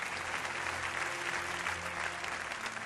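A church congregation applauds and cheers in a dense, steady wash of clapping that fills the space throughout.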